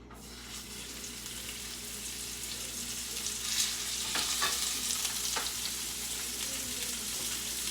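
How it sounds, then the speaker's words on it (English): Seasoned food, with garlic powder, salt, pepper and cayenne, sizzling steadily in a hot pan in a home kitchen, a continuous hiss that swells slightly midway, with a few faint clinks of stirring. "While I throw this in the pan"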